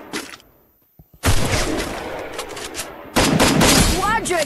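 Rapid bursts of gunfire in the battle royale game Free Fire, including sniper shots, loud and close in two dense volleys separated by a brief pause, with players talking over the action.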